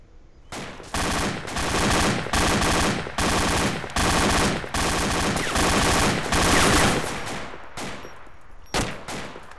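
Bursts of automatic gunfire from the ArmA 2 military video game, several long loud volleys separated by brief gaps, ending with a few shorter shots, with no talk over them.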